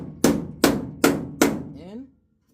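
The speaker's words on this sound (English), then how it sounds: "I need to bring the quarter panel out a little bit and keep hitting this" Four evenly spaced, loud, close hammer blows ring off the metal quarter panel of a classic muscle car under restoration, ending with a brief vocal sound.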